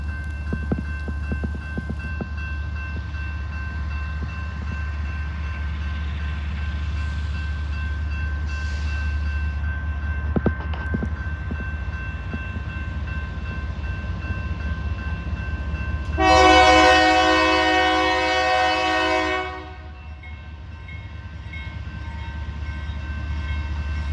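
A CSX freight train rumbles past in Plymouth, Michigan, with a steady low roar throughout, then a loud horn blast of about three seconds near the end, close by and dominating the rumble.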